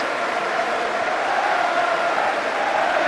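Steady crowd applause and murmur in the stands at White Hart Lane during a Tottenham Hotspur versus Aston Villa Premier League match, a continuous distant wash of clapping and noise with no single voice standing out.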